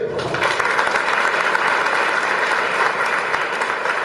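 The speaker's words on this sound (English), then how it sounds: "please, today acknowledge the warm acceptance of his presence here with your clapping" Seminar attendees give a steady round of clapping to welcome a retired brigadier, a dense, even wash of applause continuing throughout at moderate loudness.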